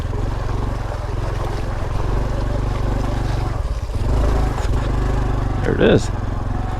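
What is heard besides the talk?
Honda Trail 125 motorcycle riding through a muddy bog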